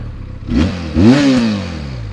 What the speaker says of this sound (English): It's not the best sound you can find on the motorcycle